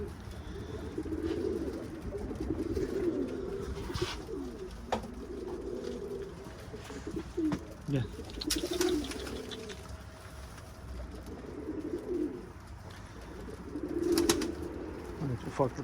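Pigeons cooing softly in a coop in repeated low rounds, with faint clicks and rustles around them and no talking.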